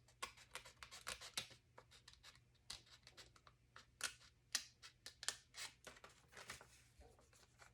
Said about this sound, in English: poke a hole in the middle, take your scissors